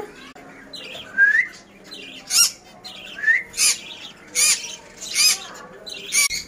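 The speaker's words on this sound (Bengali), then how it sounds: "কলোনির বদ্রিকেও দিয়ে দিয়েছি, ওরা খেতেও চলে এসছে।" Budgies in a colony aviary squawk and chirp in a series of close, loud, sharp calls repeated roughly every second, with quieter twittering between them.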